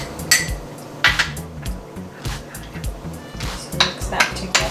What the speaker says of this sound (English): Just mix that together.